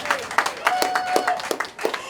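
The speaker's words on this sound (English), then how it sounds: "let's give them a round of applause" Scattered clapping from an audience at a Junkanoo Fest celebration of Bahamian culture, a brief round of applause with distinct individual claps at close range, mixed under a speaking voice.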